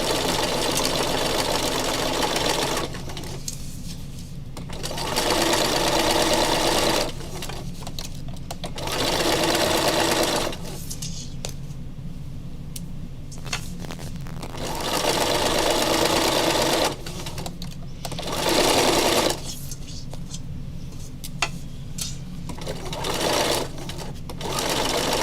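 A sewing machine runs in several bursts of steady stitching, stopping and starting again, with a presser foot riding over tulle laid on a painted surface; quiet pauses separate each run, close and clear.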